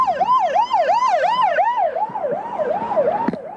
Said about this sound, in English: I have police cars whizzing by me now toward the area